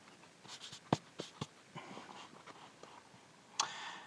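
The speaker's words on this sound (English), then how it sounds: "It's quite awkward sketching up quite high like this." A pencil sketches on paper pinned up high, making faint, close scratchy strokes in short irregular bursts with small taps between them.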